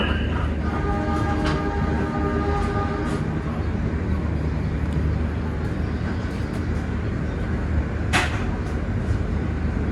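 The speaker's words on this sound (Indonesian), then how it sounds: "kereta api Mutiara Timur fakultatif sudah masuk stasiun Sidoarjo dan berhenti ya." The Mutiara Timur passenger train arrives and stops at Sidoarjo station, rumbling steadily nearby with a continuous low roar and faint metallic squeals, a brief horn tone at the start.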